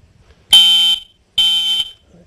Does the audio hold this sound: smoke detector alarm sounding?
yes